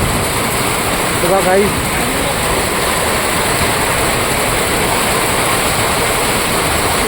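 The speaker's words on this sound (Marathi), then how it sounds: "काही भरपूर जोरात पाऊस पडतोय इकडे" Heavy rain pours onto a terrace during a cyclone storm, a dense, loud, unbroken roar of falling water that fills the whole stretch, with a person briefly speaking over it near the start.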